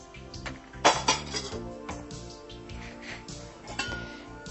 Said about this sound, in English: We'll take our inner pot out of the DreamPot.